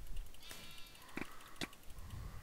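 A sheep bleats in a video game, a couple of short high bleats over a faint, noisy background.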